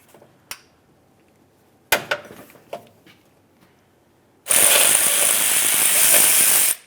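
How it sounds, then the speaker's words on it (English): Ratchet working a 13mm bolt on the oil pump pickup of a 2005-2010 Dodge Dakota 4.7L V8: a few sharp metallic clicks, then a loud continuous rapid ratcheting buzz for about two seconds. "And now we can remove our 13mm headed bolt that holds the pickup screen to the oil pump along the front."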